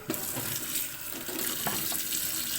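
Water runs steadily from a tap into a sink while something is being washed, a close, continuous splashing rush that lasts throughout with no speech.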